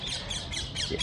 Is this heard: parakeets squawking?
yes